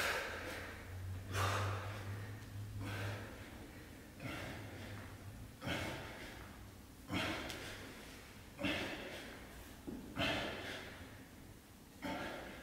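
Heavy, rhythmic breathing after a set of push-ups during a home CrossFit workout, with repeated loud gasping inhales and exhales every second or so, close to the microphone.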